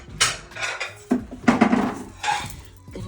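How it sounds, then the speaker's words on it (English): Chunks of gammon are dropped into a pot of pea and ham soup, giving a few close clanks and knocks of a utensil against the pan with brief scraping in between, and no voices. "So I'm just popping in the rest of the gammon."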